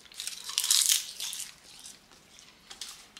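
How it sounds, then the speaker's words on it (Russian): Dried ulva seaweed being bitten and chewed up close: a sharp, bright crunch early on followed by several smaller crisp crackles as the brittle sheet breaks apart, with no talk. "Просто взял, откусил, сколько смог. И сейчас жую."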